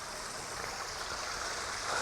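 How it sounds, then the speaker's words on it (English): Steady rushing water from small waterfalls in Sankeien Gardens, Yokohama, a constant even splashing hiss with no pauses, moderately loud and close. "Cool little waterfalls."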